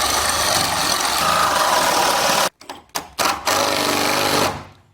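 A power drill whines loudly and steadily, briefly stutters and stops in a few jerky bursts as the bit hits a nail, then grinds on and winds down.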